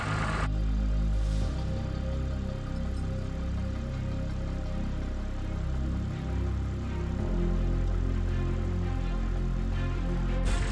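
A Ford Fiesta engine runs steadily with a little throttle applied, a low continuous rumble close by that holds an even level for about ten seconds, with a small shift in tone partway through.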